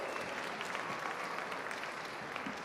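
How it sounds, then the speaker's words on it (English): Steady, dense applause from an audience at a Native arts festival, honoring a dance and drumming group; continuous clapping throughout with a faint crowd murmur underneath. "let's give them another round of applause"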